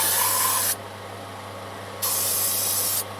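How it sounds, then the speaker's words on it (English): Carb cleaner sprays onto the carburetor of a 1983 Mighty Mac wood chipper in two steady, loud hissing bursts with a short pause between them. "I'm just going to spray the rest of it with carb cleaner"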